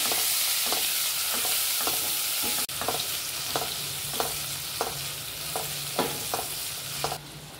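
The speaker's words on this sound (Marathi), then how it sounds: "आता हे टोमॅटो सुद्धा आपण चांगले लालसर मऊ होईपर्यंत परतून घेणार आहे." Tomatoes sautéing in a pan for veg dalcha, a steady sizzle broken by a regular series of about a dozen spatula scrapes and stirs, close and clear with no voices.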